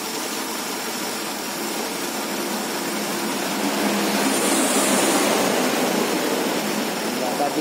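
A carburetted car engine runs steadily close by with a vacuum hose being adjusted. The drone is continuous and broadband and swells slightly louder partway through.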